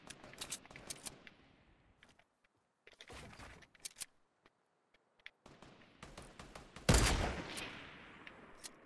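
Heavy shotgun blasts in the video game Fortnite come in scattered bursts of sharp shots between near-silent gaps. The loudest, boomiest blast lands late, with a trailing decay.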